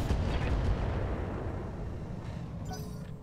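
Mech weapons in Roguetech let loose a heavy booming barrage, a dense rumbling blast that swells at the start and then rolls off and fades, with a faint higher crackle near the end.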